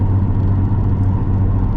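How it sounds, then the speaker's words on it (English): A Nissan Altima with a VQ engine, fitted with a new intake and exhaust, gives a steady, throaty low rumble while driving, a continuous close engine drone with no break. "sounds like a throaty car in a sense."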